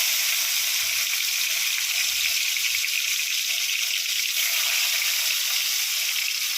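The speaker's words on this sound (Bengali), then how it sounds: "উচ্ছেগুলো আমি গোল গোল করে কেটে নিয়েছি, কেটে নুন হলুদ মাখিয়ে ভেজে নেব" Round slices of bitter gourd coated in salt and turmeric fry in hot oil, producing a loud, continuous crackling sizzle that holds steady with no talk.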